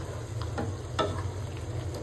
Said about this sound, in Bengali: এটা তেলে একদম ভাজা ভাজা করব